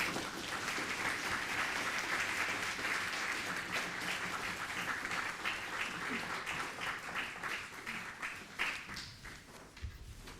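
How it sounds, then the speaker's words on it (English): Warm audience applause welcoming a performer onstage at an evening event, dense and sustained clapping that gradually thins toward the end as a few claps linger. "give Astan a very warm welcome"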